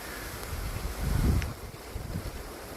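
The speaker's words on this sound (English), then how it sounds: "It is windy." Strong morning wind gusting across a backyard free-range bantam chicken yard, a steady broadband roar that swells loudest around the middle before easing back to a constant rush, with no talking.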